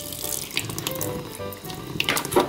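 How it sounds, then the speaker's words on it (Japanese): Water running from a kitchen tap while a freshly caught kiss fish is scaled, a steady close splashing stream with a few sharper clinks near the end. "まず水をちょっと出しながら"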